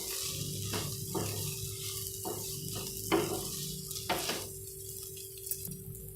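Chopped omelette and noodles tossed together in a hot pan, a soft steady sizzle broken by several scraping stirs of a spatula, close and moderately loud, with a faint steady tone running underneath.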